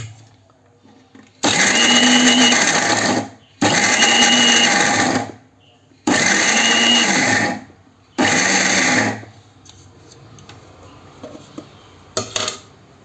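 Mixer grinder jar grinding coconut pieces for ladoos, four loud whirring bursts of a few seconds each with short pauses between, close to the microphone, followed by faint handling clatter.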